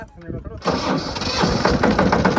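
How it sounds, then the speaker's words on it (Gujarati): A large tractor engine cranks and catches about half a second in, then runs loud and rough at a steady idle while a voice talks over it. "એમ મોટા ટ્રેક્ટર ચાલુ થયું"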